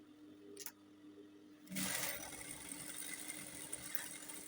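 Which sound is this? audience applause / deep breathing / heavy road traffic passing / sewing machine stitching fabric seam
sewing machine stitching fabric seam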